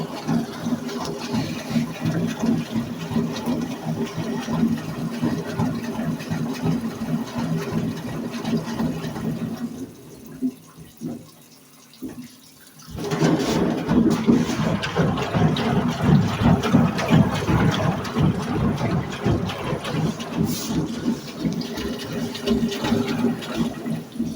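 A new Brandt washing machine fills with water at its high water level, a steady close rush of flowing water that briefly drops off partway through, then surges back.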